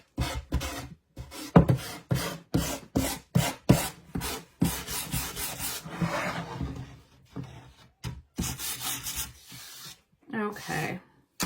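Decoupaged paper glued onto a wooden winter decor piece gets sanded by hand in a run of short, rhythmic rasping strokes, close and fairly loud, with brief pauses between passes.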